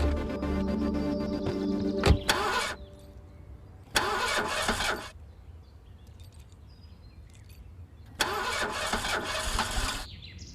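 A car engine cranks in three separate bursts but never catches, with quiet pauses between attempts and a low tonal hum at the start.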